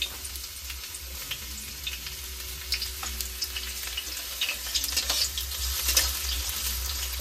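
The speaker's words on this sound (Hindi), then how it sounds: "मु फास्ट प्याज पकाई देली।" Onions frying in hot oil for a desi potato chaat, a steady close crackling sizzle with brief stirring scrapes throughout, no voices.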